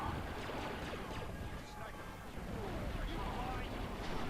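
Grenade explosions in the Star Wars Battlefront II video game, dense rumbling blasts and gunfire forming a continuous loud battle din.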